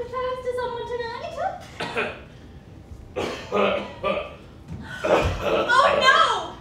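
A performer coughs during a staged reading of a Victorian-courting zombie comedy, several hacking bursts mixed with voices and exclamations from the cast around it.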